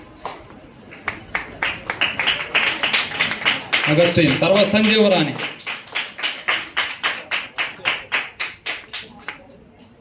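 Group clapping at a Sunday school game prize-giving, a steady rhythmic beat of sharp claps, with a voice speaking briefly over it midway.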